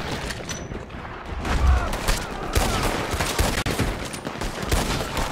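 Rapid, sustained gunfire from a Gatling gun rattles continuously in a Red Dead Redemption 2 shootout, dense overlapping shots with booming impacts throughout.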